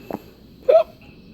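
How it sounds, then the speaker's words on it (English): A baby hiccups nearby, a soft brief sound followed by a louder short squeaky hiccup, with quiet room tone and no talking. "You got the little hiccups?"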